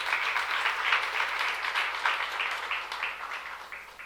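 A church youth congregation applauds during a sermon, a full, steady round of many hands clapping at moderate loudness that tapers slightly toward the end.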